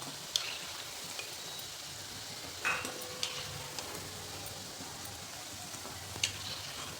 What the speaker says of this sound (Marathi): अशा पद्धतीने आपल्याला सर्व तळून घ्यायचे